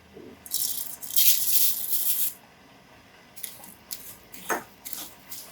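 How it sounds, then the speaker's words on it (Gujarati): Poha (flattened rice) tipped into hot ghee in a pan gives a loud sizzling rattle for about two seconds, then fainter scattered sizzles and clinks as it settles. "ઘી ગરમ થઈ ગયું છે, આપણે પૌવા એમાં એડ કરી દઈશું।"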